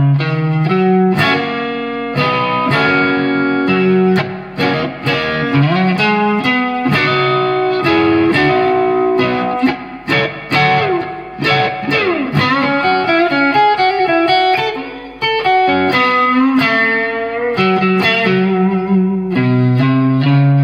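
Electric guitar plays an intro lick slowly through an effects unit with distortion and reverb, sustained bent notes and chords ringing continuously and loud with no talking.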